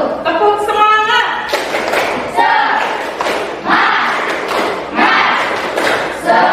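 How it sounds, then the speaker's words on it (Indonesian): A group does a spirit clap (tepuk semangat) at a school supervision and coaching session, with loud rhythmic claps and thuds mixed with voices chanting together in several bursts close by. "Tepuk semangat."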